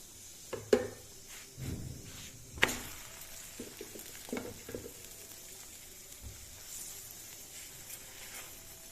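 A leftover-vegetable paratha frying in ghee on a pan, with a soft continuous sizzle under several sharp clatters and scrapes from handling it, one louder clank early on and quieter touches later.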